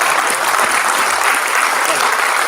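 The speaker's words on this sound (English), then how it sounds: "Everybody give them a round of applause." Audience at a pop culture expo comic panel applauds steadily, a dense, even wash of clapping close by for the whole stretch with no pauses.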